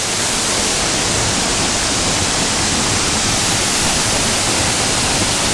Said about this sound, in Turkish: Şelaleye geldik arkada. Epey güzel duruyor.